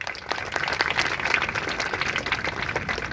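An audience bursts into steady applause, many hands clapping in a dense, even patter that holds at a moderate level throughout without any voices over it.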